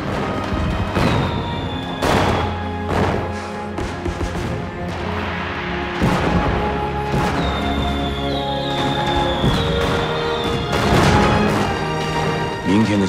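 Fireworks bursting overhead during a night celebration, a series of sharp booms and crackling explosions spread irregularly across the scene, with some whistling rises and a faint voice beneath.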